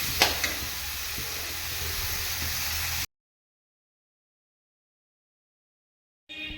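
Mudakathan greens fry with tamarind, salt and chillies in a pan, making a soft continuous sizzle with a few light stirring clicks near the start, then a sudden cut to silence before the sizzle briefly returns at the end.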